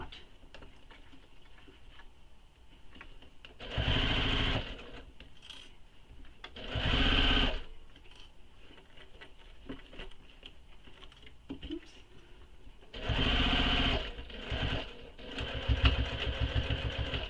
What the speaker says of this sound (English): you'll just press that seam under and stitch it closed